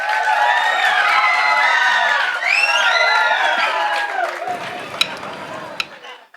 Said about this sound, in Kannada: ಕನ್ನಡಕ್ಕಾಗಿ ತಮ್ಮೆಲ್ಲರ ನಲ್ಮೆಯ ಪ್ರೀತಿಯ ಒಂದು ಚಪ್ಪಾಳೆ ಇರ್ಲಿ ತಮ್ದೆಲ್ಲ